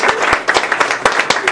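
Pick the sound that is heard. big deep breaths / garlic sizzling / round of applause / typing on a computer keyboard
round of applause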